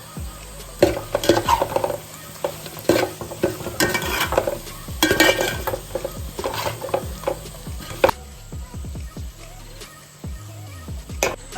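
Fried fish is stirred into sizzling masala in a pan for Kerala-style fish pickle, with steady scraping and clinks of a spoon against metal over a soft frying hiss.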